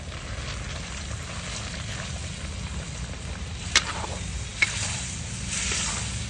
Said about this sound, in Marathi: पाच मिनिटं आपण असंच परतत राहायचं याला